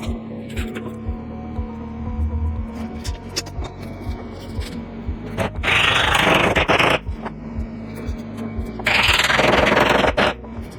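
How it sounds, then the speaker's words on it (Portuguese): A hand file rasps down a freshly set pipe, with two loud sustained scraping passes standing out among scattered clicks, handling noises and a faint background hum. "depois eu vou executar um arquivo para desbastar o cano que a gente colocou aqui"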